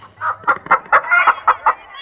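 Chickens cluck loudly and close by, a quick run of about eight rhythmic clucks in a row with little else around them.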